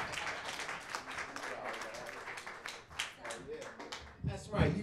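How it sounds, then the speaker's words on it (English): Bar crowd at a dive bar comedy show clapping and cheering for a Chicago comedian as his set ends, with a host's voice talking loudly over the applause. "You give another motherfucking round of applause for Mr. Zoe Johnson."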